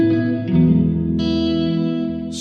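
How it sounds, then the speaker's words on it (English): Guitar chords ring through the Pulsar Primavera spring reverb plugin on its default preset, lush and warm with a springy, echoing wash that sustains between notes, without talking. "So this is the default preset. As you can tell from the get-go, it sounds pretty lush."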